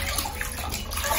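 Water splashes and runs during a bath for a tiny micro teacup puppy, a brief close burst of sloshing and pouring.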